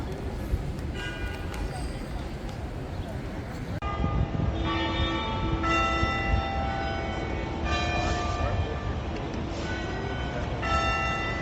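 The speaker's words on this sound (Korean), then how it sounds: "때 맞춰 교회에서 종소리가 들리니 경건해지네요." Church bells ring on Boston's Freedom Trail near a cemetery, striking repeatedly and fairly loud over steady outdoor ambience.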